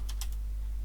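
Code is typed on a computer keyboard during a programming lecture: three quick key clicks close together, then a steady electrical hum beneath.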